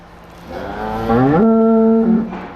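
A mother cow standing near her newborn calf gives a single loud, close moo that rises in pitch, holds steady, then trails off, alone with no voices.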